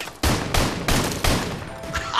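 Gunfire in Call of Duty Modern Warfare Remastered rings out as four loud, close shots in an uneven volley, each with a sharp crack and a short ringing tail.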